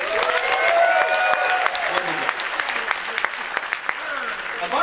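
A comedy show crowd applauds and cheers, with scattered whoops and shouts rising over the clapping throughout the few seconds.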